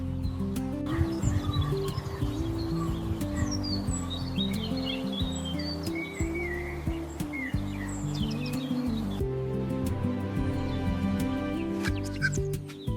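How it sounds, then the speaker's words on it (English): Birds sing at a zoo, with many bright chirps and trills scattered throughout over a steady, loud, pitched background of music-like tones. "The bird song is very beautiful and peaceful."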